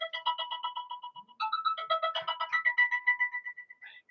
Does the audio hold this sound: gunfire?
no